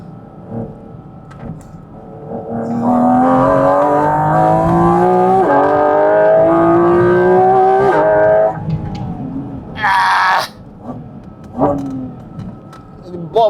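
A Porsche GT4 RS on a private track day at Bicester Motion roars loudly from close by, its flat-six engine climbing in pitch through repeated gear shifts before lifting off, followed by a brief hissing burst and engine blips.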